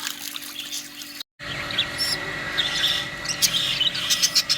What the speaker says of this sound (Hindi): तोते ने शोर मचा रखा है